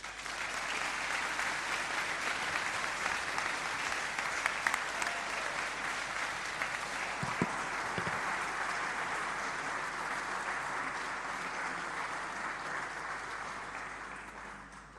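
Sustained applause from a conference audience welcoming Michel Sidibe at a global forum for MSM and transgender advocates, steady and dense throughout with no voices over it.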